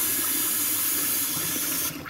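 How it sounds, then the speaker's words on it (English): Warm tap water runs from a faucet into a container of rinsed Thai sticky rice, a steady close-up hiss and splash that cuts off abruptly near the end. "I'm refilling the rice container with tap water"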